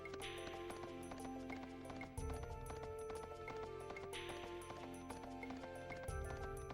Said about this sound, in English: It just gave it the horse sound effect.